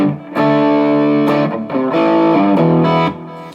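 Electric guitar played through an Analogman Prince of Tone pedal on its overdrive setting, loud sustained chords and ringing notes with a warm, gritty edge, changing in several strummed phrases before fading out.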